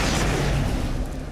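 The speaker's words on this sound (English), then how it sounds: "I want to flashbang him?" A flashbang grenade in the game Alan Wake lets off a loud, close, booming blast that fills the whole moment and then slowly fades.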